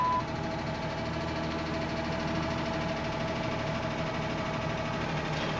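A Chrysler 3.5 L V6 idles steadily just after a spark plug change, a continuous low engine hum with a faint mechanical ticking, close and alone without talk.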